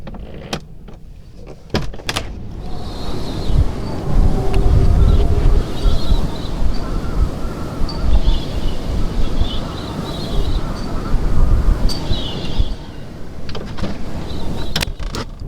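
A camper van parked right beside a rough sea takes strong gusts, a loud continuous roar and rumble against the body with occasional knocks and rattles.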